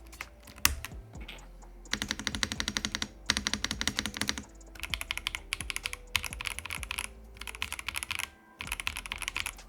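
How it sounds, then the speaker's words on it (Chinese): Typing on a Dareu A81 tri-mode mechanical keyboard fitted with linear switches: a steady run of close, crisp keystrokes in bursts with brief pauses, no voices. "这里换成线性轴给大家听一下"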